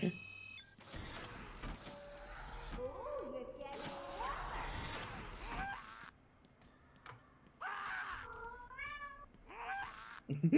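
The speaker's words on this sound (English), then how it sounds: "Oh, kitty." A cat meows several times in the Batman Arkham Asylum video game, with rising and falling tonal cries among clattering game sounds. A short run of clear meows comes near the end, and a person talks over parts of it.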